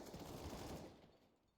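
Gunfire in CS:GO, likely a rapid automatic burst through a wall, sounding as a quiet, dense rattle that fades out over the second half, heard alone.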